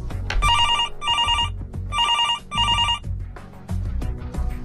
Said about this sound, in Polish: To jest sygnał telefonu od przyjaciela.